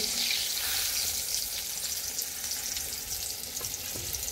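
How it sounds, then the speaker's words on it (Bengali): Eggplant slices frying in oil over low heat, a close, steady sizzle with light crackles and a few soft scrapes as the pieces are moved, with no talking. "বেগুন ভাজাটা দেখো লাল লাল করে ভাজা হয়ে গেছে"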